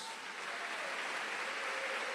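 A church congregation applauds during a Holy Communion service, a faint, even rush of distant clapping held steadily for a couple of seconds.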